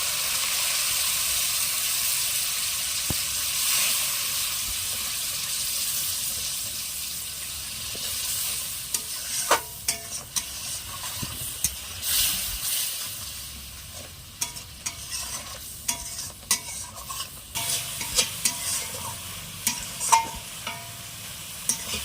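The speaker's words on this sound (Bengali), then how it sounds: "এবার দেব ধনে গুঁড়ো জিরে গুঁড়ো অল্প একটু জল দিয়ে মশলাটা আমি ভালোভাবে কষে নেবো" Coriander and cumin spice paste with a little water sizzling steadily in a pan while being stirred for a prawn malai curry, with scraping and clattering spoon strokes growing busier toward the end.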